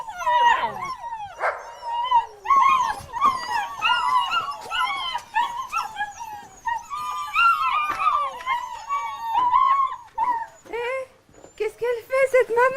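A pack of about forty sled dogs howls and yips together nearby, with wavering overlapping howls rising and falling almost continuously and loud throughout.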